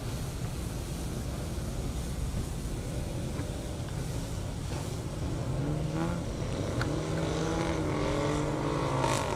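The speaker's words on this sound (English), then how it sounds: "the Audi found the gas pedal first and made really good use of it" An Audi RS7 accelerates hard down a half-mile airstrip at a 200+ mph racing event. Its engine note climbs in rising sweeps over a steady background roar and grows louder toward the end.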